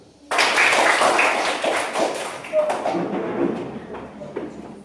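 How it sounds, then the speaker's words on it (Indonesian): A school class bursts into applause all at once, a dense burst of clapping with voices mixed in, easing off gradually toward the end. "Tepuk tangan."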